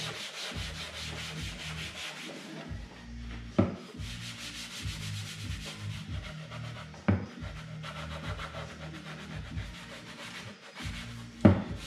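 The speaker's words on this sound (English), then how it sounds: "it's scuffing it and cleaning in all the cracks and crevices" A plastic surface being scuffed and sanded by hand, with steady rhythmic rubbing strokes in repeating bursts and a few sharper knocks, close up with no talking.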